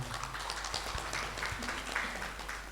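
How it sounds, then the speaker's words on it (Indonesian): An audience at a business gathering gives quiet, scattered applause for the company owner, faint clapping over a low steady hum, with no one speaking. "Ustaz Zainal, tepuk tangan dong untuk beliaunya"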